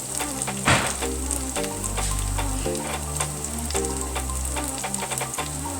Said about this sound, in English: So while those are frying